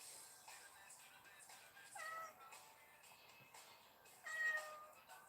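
A cat meows repeatedly at a moderate distance, faint and thin, with two louder, sharper cries standing out against a quiet room.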